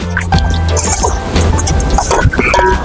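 Water pours into a cooking pot at a tent campsite on a fishing trip in Vypin, Kochi, a close, steady splashing fill with scattered drips, and no one talks.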